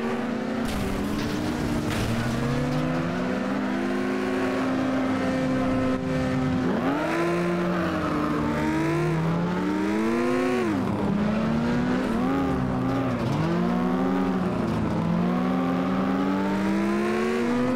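Racing car engine in the FlatOut video game, a loud continuous drone with rising and falling revs as gears shift and the car accelerates repeatedly, sustained throughout with no talking.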